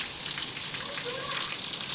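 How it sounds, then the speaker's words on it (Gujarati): Continuous rain falls in a village as a steady, even hiss of drops on surfaces, with a faint voice barely audible beneath it. "વરસાદ કન્ટિન્યુ ચાલુ છે"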